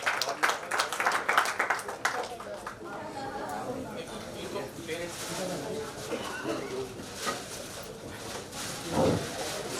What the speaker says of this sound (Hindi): एक बार जया प्रदा जी के लिए जोरदार तालियां हो जाए।